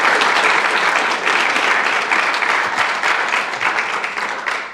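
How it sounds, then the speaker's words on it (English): An audience at a NAIDOC speaker series event applauds steadily, a dense and loud wash of many hands clapping that holds through the whole stretch without a break. "one more clap for them."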